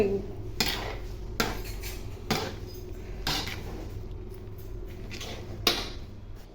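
Peanut powder and gongura mixture being mixed in a bowl, with a spoon scraping and clinking against the dish in several sharp knocks amid steady scraping.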